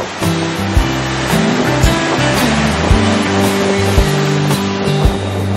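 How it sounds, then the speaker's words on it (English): Ocean waves crash and wash continuously against a pier just before sunset, a loud broad roar with low surges recurring roughly every second, heard up close in wind. "Look at these waves just crashing in."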